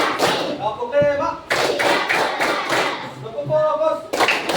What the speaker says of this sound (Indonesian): Tepuk satu, tepuk dua, tepuk tiga, tepuk keempat,